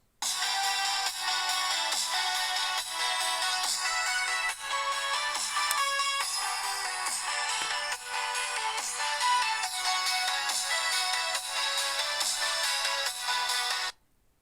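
Music plays openly through a phone's speaker rather than Bluetooth earbuds, a steady dense tune running for about fourteen seconds before cutting off abruptly near the end.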